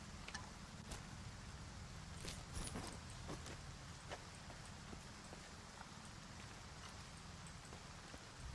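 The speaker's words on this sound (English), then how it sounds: "I think the rain bugs the sound pretty easily" Steady rain falling in the video game Stalker, a continuous hiss with scattered drop-like taps and clicks, moderately loud and unbroken, no talk.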